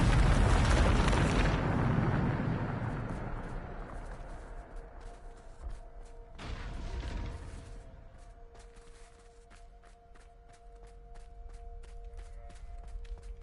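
A Bombarda spell explosion in a video game: a loud, rumbling blast opens and slowly decays, then a second softer boom follows midway before dying into faint footsteps and clicks, with no talking.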